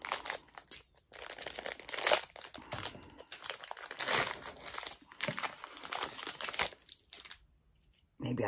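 A fat pack of Score football cards is torn open, with dense crinkling and crumpling of the wrapper in bursts for several seconds, close and fairly loud, with brief pauses between handfuls.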